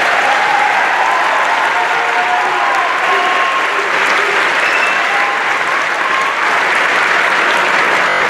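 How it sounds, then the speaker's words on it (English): A school audience at a middle school honors concert applauds in a steady, loud wash of clapping that lasts throughout, with no talk over it. "Let's give them another round of applause."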